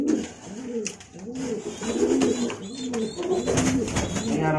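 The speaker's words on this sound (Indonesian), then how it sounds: "Sekarang kita langsung aja coba merpatinya udah giring keket apapun ya bro ya." Pigeons coo in courtship, nearby and loud, repeating soft rolling coos in a regular rhythm over a faint background hum.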